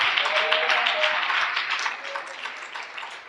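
A church congregation claps loudly together during a Telugu worship service. The dense applause starts strong and fades a little toward the end, and a faint voice rises briefly within it.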